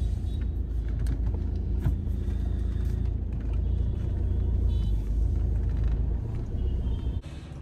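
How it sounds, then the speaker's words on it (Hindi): A car rolls into a hospital basement car park at Apollo Cradle, its engine and tyres making a continuous low rumble with occasional knocks and clatters, ending with a brief drop near the end. "फाइनली पहुंच गए हैं, बेसमेंट में गाड़ी पार्क कर दिया है।"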